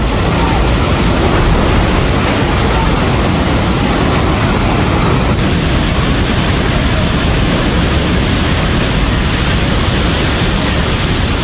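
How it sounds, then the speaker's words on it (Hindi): Fast flash floodwater in Nepal rushing past at full force, a dense, continuous roar of turbulent water that stays loud and steady throughout, with no talking. "इतनी तेज पानी आया है कि खिलौनों की तरह बस पानी में बहती हुई चली गई"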